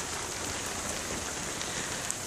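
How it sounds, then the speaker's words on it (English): Steady rain falls outdoors, a dense, even patter of drops hitting surfaces at close range throughout, with no voices. "we're gonna get outside because it's starting to rain a little more again."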